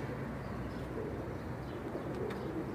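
Golden pigeons, including a male, coo softly in a loft, with low, murmuring calls layered over a steady background hum and no talking.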